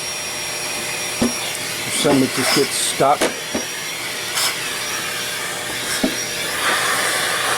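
An old Electrolux household vacuum with a HEPA filter runs in a steady loud whine while cleaning a skate sharpener, with clattering bits sucked up mid-stream and a person speaking briefly over it.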